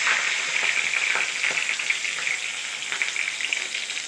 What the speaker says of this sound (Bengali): সয়াবিন বড়িটা একটুখানি লাল মতন ভেজে নেব